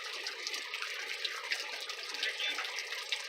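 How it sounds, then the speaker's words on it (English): Footsteps slogging slowly through water and mud on a wet trail near a waterfall in Kentucky, a steady close-up sloshing and splashing that continues without talk. "Big slow steps so we don't splash too much"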